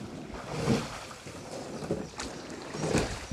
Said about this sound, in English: What a lovely busy morning on the river today.